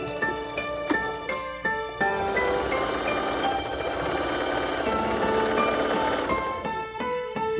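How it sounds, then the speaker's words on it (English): A sewing machine stitching fabric for a scrunchie whirs in steady runs, with rhythmic mechanical clatter, short pauses and restarts near the start and end, close and clear with no talking. "Leave 2 inches before you start sewing."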